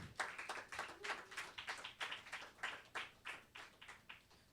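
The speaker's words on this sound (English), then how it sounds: "Another round of applause for Ranjani" Applause from an open mic audience for a performer, a steady patter of many hands clapping with rhythmic swells, fairly close and without talk.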